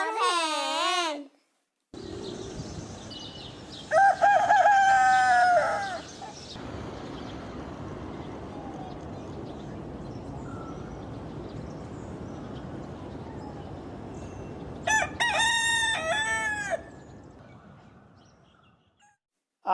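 A hen in a children's alphabet song clucks in short bursts near the start and again near the end, over a steady noisy backdrop.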